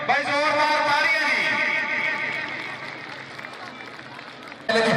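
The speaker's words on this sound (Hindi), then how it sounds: "जोरदार तालियां" Crowd at an open kabaddi match applauding loudly in a steady wash of clapping that slowly fades, then swells again at the end, with voices mixed in.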